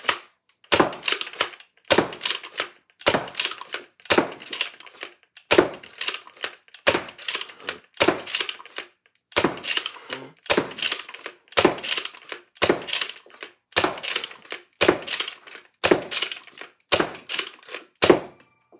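A Charamile Designs Skewer, a T-pull Nerf blaster, is fired and reloaded over and over, giving sharp close snaps and clacks in a steady rhythm of roughly one shot every second or so.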